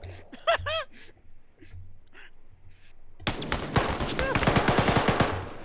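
Rapid gunfire in the military shooter ArmA rattles out in a dense burst of sharp, loud shots. It follows a quieter stretch where a few people exclaim and gasp.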